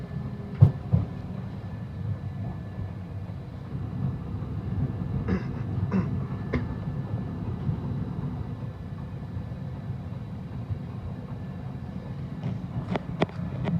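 London Underground Piccadilly line train running between Uxbridge and Cockfosters near Acton Town, a continuous low rumble of the carriage with scattered clicks and rattles of track and fittings, no voices.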